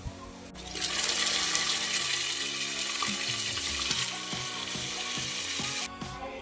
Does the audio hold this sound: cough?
no